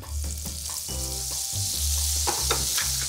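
Oil and butter sizzle in a hot frying pan, a steady bright hiss with a few crackles and a pan knock, close and alone without talk.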